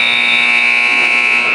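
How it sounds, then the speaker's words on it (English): A loud, steady electronic buzzer sounds at the end of the first quarter of a girls' high school basketball game between Smith Center and Stockton, one sustained tonal blast heard alone. "Came after the buzzer."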